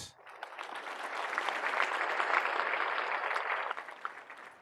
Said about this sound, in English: So round of applause for that.